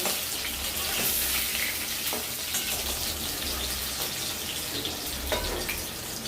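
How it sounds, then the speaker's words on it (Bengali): Potatoes frying in oil for chicken biryani, a steady close sizzle with occasional stirring clatter and a low rumble of flame underneath, no one speaking. "এরপর আলুটা একটু লাল করে আমি ফ্রাই করে নেব।"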